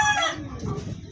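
A fighting gamecock crows once, close and loud, a harsh drawn-out cock-a-doodle-doo that breaks into clucking noises.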